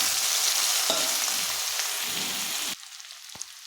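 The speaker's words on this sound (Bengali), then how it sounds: "পনিরটা ভাজা হয়ে গেছে, এখন উঠিয়ে নেব।" Paneer with a pinch of turmeric fries in a pan with a loud, steady close sizzle that suddenly cuts off near the end, leaving a few faint clinks.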